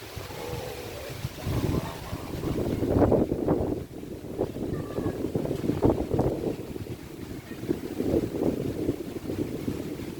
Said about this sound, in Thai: ลมแรงครับลมแรงจริงๆ